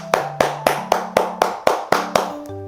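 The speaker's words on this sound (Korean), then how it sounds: "수고하신 모든 분들께 박수하도록 하겠습니다" Clapping follows the end of an online Korean Bible study lesson from a church. About nine sharp, evenly spaced claps ring out close and clear, with a low steady tone underneath and no talk over them.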